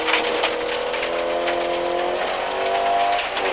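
A rally car launches from the stage start, its engine revving hard and rising in pitch as it pulls away, loud and close from inside the car.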